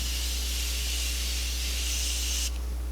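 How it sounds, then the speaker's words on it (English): Morphe aerosol makeup setting spray hisses in one steady, continuous burst close by, cutting off near the end over a low background hum. "Okay, now I'm going to spray it with my Morphe spray,"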